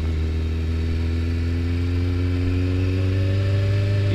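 A Kawasaki ZX14R sport motorcycle engine runs with a steady, loud, close drone whose pitch slowly rises over a few seconds, as if revving gently upward.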